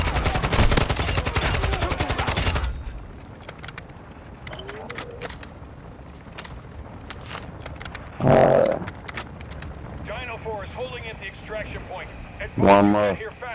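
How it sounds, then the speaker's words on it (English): Rapid automatic gunfire in the video game Call of Duty: Modern Warfare II, a loud dense burst at the start, then scattered single shots and bangs while someone talks over them. "All these guys shooting at me, man."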